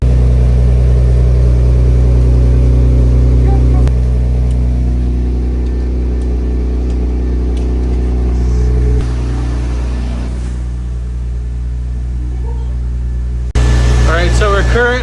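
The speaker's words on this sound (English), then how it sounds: "Currently warming up the car" A BMW E36 M3, a Euro-spec coupe, sits idling as it warms up, its steady low engine drone continuous throughout with an abrupt change near the end, while voices talk over it.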